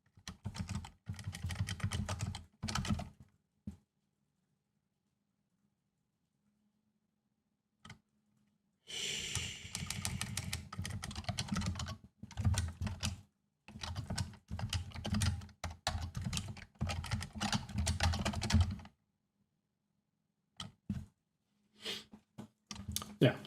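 Bursts of close computer-keyboard typing come in irregular runs with clicks and pauses of silence between, recorded during a livestream coding session in Haskell; no speech is heard.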